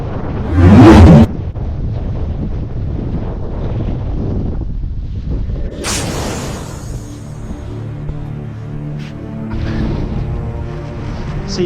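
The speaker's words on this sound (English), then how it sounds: "subió el viento un montón" Strong sea wind buffets the microphone while kitesurfing at Sydvestpynten before a snowstorm, with loud gusty rumbles and a sharp blast near the start over a steady roar, no voices.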